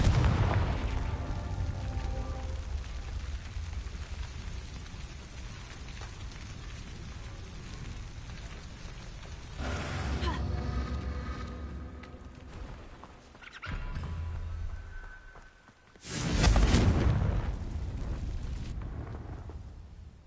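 Confringo blasting spell explosions in Hogwarts Legacy, a low rumbling roar with several booming surges, the loudest near the end, heavy and sustained with no speech.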